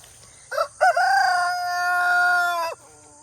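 A farm rooster crows loudly and close by, one full drawn-out cock-a-doodle-doo after a couple of short opening notes, then quiet.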